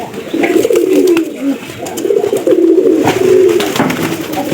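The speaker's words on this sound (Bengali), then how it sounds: "লাস্টে একটা কবুতর আছে, এই কবুতরটা কিন্তু ঝামেলা করতেছে" Several pigeons coo in low, rolling, repeated calls close by, with soft rustling and faint background noise.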